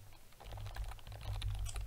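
Quick clatter of keys on a computer keyboard, steady and fairly close, with irregular rapid keystrokes running throughout at low volume and no voices.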